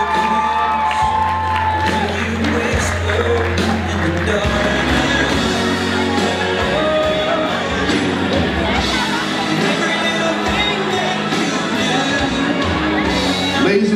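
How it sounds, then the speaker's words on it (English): Wedding guests at an evening reception applauding and cheering, a loud, dense, sustained roar of clapping, whoops and shouts from a large crowd. "let's give a nice huge round of applause for all of our parents here tonight"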